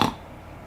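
A human voice imitates a pig's snort with a single short, rough nasal burst at the very start, followed by near silence.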